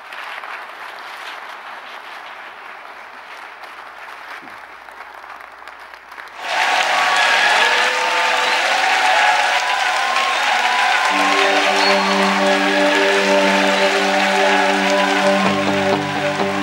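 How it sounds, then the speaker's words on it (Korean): Church congregation applause welcoming the pastor breaks out suddenly after a quieter stretch and keeps going as dense, loud clapping, while sustained organ or keyboard music comes in underneath later on. "오늘 목사님 나오실 때 큰 박수로 한번 환영하겠습니다"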